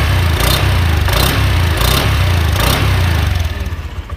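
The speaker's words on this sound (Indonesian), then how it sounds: "Suaranya guys, suaranya ini kayak ini guys, knalpot totosan tapi standar gitu." Honda Genio scooter with a stock 'totosan'-style exhaust idling after being started, a steady close low putter with faint rhythmic pulses, dying down near the end.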